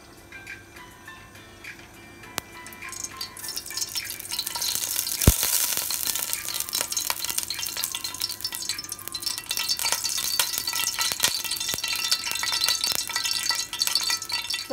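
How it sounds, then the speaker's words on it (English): Mustard oil poured into a hot pan at the start of cooking Ilish fish dopiaza, giving a loud, continuous sizzle and crackle with a sharp clank near the start, close by and steady throughout. "So I'm adding some mustard oil."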